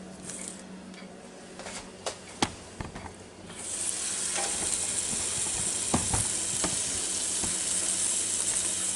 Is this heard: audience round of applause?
no